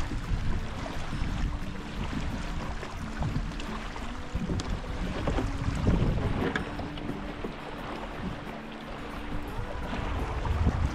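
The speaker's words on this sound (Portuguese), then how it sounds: "O vento arrastou-me o caiaque aqui para a margem, está um bocadinho complicado" Steady wind blowing over a kayak pushed toward the shore on a winter pike and bass fishing outing, a continuous broadband rush with water movement and microphone buffeting throughout, no talk.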